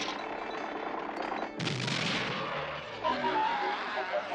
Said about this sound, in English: I thought they outlawed fireworks!